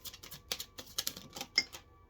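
Quick, soft papery clicks and riffles of tarot cards being shuffled, a steady patter of light taps heard close and fairly quiet.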